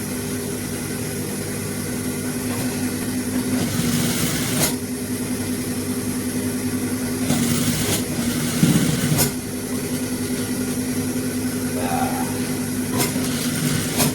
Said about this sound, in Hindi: किनारी सिलाई दोस्तों लगानी है।